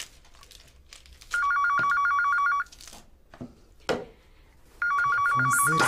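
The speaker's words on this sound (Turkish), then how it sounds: "Telefon zır zır." A telephone rings in two long electronic bursts, a loud trilling bell-like tone, with quiet room noise and a few thumps in between.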